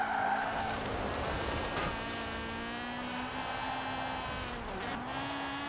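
A car in the racing game Forza Horizon 4 is driven hard on a mountain touge road, its engine droning and shifting pitch continuously while tires squeal and skid through corners.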